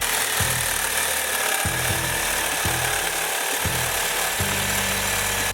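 A power saw or cutting tool working through the flexible EGR tube on a Duramax truck, a loud continuous whine with repeated low pulses as the blade bites and eases, close by with no talk.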